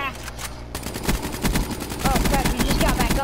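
Rapid automatic gunfire from Call of Duty: Black Ops III, fought against manikin enemies, sounds as loud, dense bursts of shots that grow heavier toward the end.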